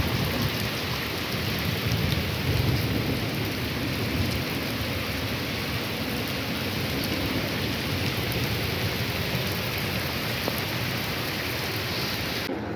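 Heavy rain pours down in a dense, constant hiss, steady and loud throughout, with a low rumble beneath it.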